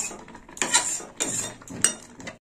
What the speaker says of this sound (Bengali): এইভাবে ডালটা গুলে নেব, নাড়িয়ে চাড়িয়ে নিলাম